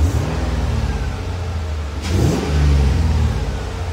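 A 1986 Range Rover Classic fitted with a swapped LS3 engine revs up loudly and close, a deep throaty roar that rises sharply midway and holds high before settling.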